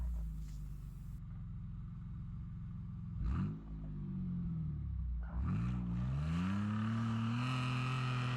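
A Mitsubishi Pajero's engine revs hard while climbing frozen sand, its open front differential spinning one tire; a steady rumble rises in pitch twice with brief lulls between, ending in a sustained high rev.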